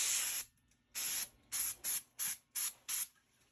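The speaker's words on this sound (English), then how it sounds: "You know, you can spray it on there." Short bursts from an aerosol spray can hiss close by as coating goes onto a 1983 Newell coach, one long spray followed by a pause and then six quick, evenly spaced blasts.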